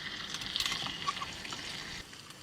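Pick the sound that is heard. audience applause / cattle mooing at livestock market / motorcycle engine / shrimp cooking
shrimp cooking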